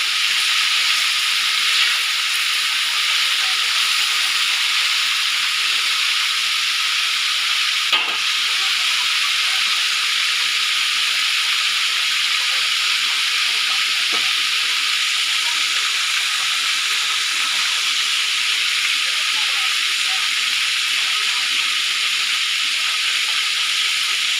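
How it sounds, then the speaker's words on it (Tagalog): Loud, constant sizzling and crackling of chicken wings frying in hot oil, with a brief clatter partway through and no talking. "Ayan na yung iba guys, na prito na natin."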